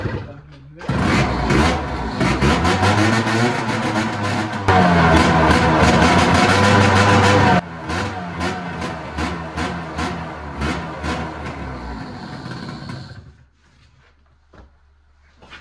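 A scooter engine revs hard and loud, a sustained buzzing drone that climbs to a higher, steadier pitch midway, then eases into choppier throttle blips before dropping away near the end.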